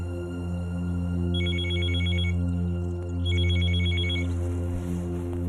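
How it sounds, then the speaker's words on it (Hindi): A telephone rings indoors in two bursts of trilling electronic bell tones over a steady low hum, fairly quiet and with no one talking. "पता नहीं किसका फोन है। जल्दी देखें कहीं उस औरत का फोन ना हो।"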